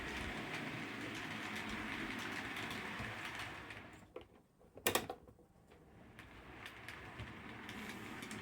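A model train locomotive on a DCC-controlled modular layout runs with a faint, steady mechanical whir and rattle, dipping briefly midway around a couple of sharp clicks before the hum resumes.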